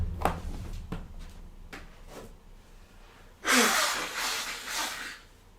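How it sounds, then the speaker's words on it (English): Nose blowing by someone who is sick: a few short sniffs and snorts, then a longer, forceful blow into a tissue lasting about two seconds, close and fairly loud. "so I have to go blow my nose off real quick"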